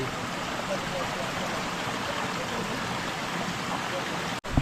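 A jungle river flows in a steady, dense rush of water, close and constant throughout, and a voice can be heard faintly within it.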